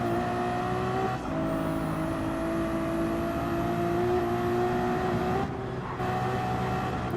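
A Ferrari race car lapping the Nürburgring Nordschleife during a race, a steady high engine whine held at speed with slight pitch rises and two brief dips as it shifts gear, heard continuously from onboard.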